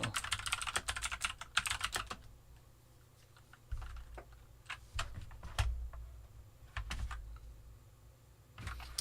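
Typing on a computer keyboard in irregular bursts of sharp clicks and clacks, close and fairly quiet, with short pauses between runs of keystrokes and no talking.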